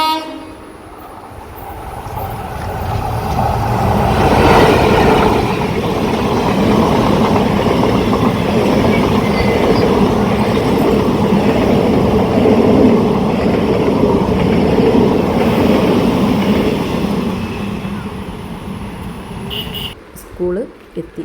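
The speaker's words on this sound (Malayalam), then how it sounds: "ഇനിയൊരു ട്രെയിൻ വരുന്നുണ്ട്" A train rumbles past close by, building to a loud, sustained roar with rhythmic clatter of wheels, then fading away.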